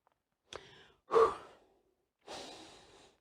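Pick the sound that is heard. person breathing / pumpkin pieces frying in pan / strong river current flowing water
person breathing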